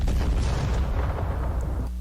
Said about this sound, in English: Sci-fi explosion was the other thing I was thinking